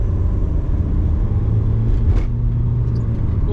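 A Rover 75 car drives along at a steady pace, its low engine and road rumble constant and close throughout, with a brief swell of noise near the middle.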